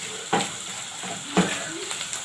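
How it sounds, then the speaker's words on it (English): Minced meat frying in a pan with a little oil while making pizza filling, a steady close sizzle with two sharp stirring scrapes and light utensil clinks. "I'm frying our minced meat."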